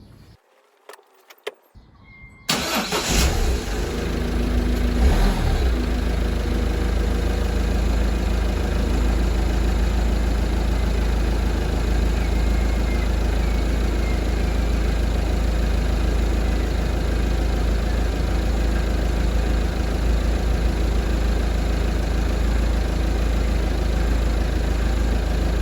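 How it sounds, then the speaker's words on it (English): A car engine idles steadily and close for a long stretch after a few brief clicks and handling sounds at the start, a constant low hum with no talk. "I've got the engine running"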